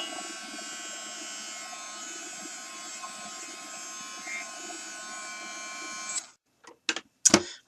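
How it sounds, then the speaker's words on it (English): A heat gun held over a vintage paper bag flower, a steady close whirring blow that runs evenly for about six seconds, then cuts off and leaves a few short clicks and knocks. "I'm going to turn my heat gun on for just a second."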